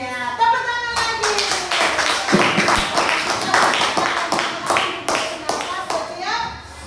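Schoolchildren clap together in a classroom during a religious lesson, a fast run of sharp, close, fairly rhythmic claps with children's voices chattering underneath before the clapping fades at the end.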